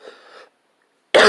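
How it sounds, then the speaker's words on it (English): A single sharp, loud cough close to the microphone, after a soft breathy sound and a short silent pause. "Sorry, cough."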